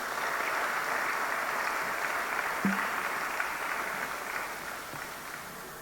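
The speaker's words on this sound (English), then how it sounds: "A round of applause for him." Audience applause for the first speaker at an economic leadership forum, a steady wash of many hands clapping that holds for several seconds and fades slightly toward the end.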